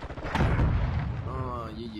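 Gunfire in the video game Modern Warfare 2 on PC, a loud booming burst up close that rings out and fades, with a voice faintly heard beneath.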